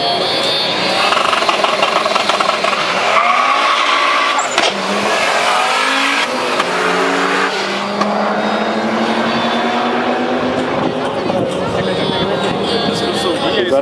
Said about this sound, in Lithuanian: Dabar Audi 200 turbo kilo su meilė.